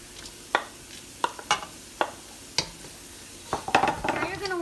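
Onions, ginger, garlic and chili sautéing in a pan for ground beef pasta, heard as scattered spoon taps and scrapes over a low sizzle that grows louder and busier toward the end, with no talking.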